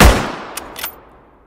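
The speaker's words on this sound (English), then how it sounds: "for the G98, which is pretty much the equivalent of the Lee Enfield rifle, I've used the same principles to design this" A designed G98 bolt-action rifle shot for a war ambience, one loud, sharp crack with a heavy low thump that decays over about a second, followed by two brief metallic clicks.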